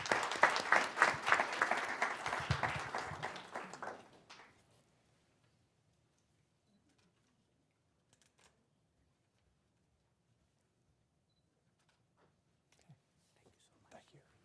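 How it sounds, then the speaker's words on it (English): Applause from attendees at a city council work session, moderately loud for about four seconds then quickly dying away to near silence with a few faint stray sounds. "let's have a round of applause"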